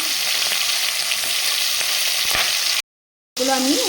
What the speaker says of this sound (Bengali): তেলটা গরম হয়ে গেছে দিয়ে দেবো মাছ তো খুব একটা খুব একটা কড়া করে ভাজবো না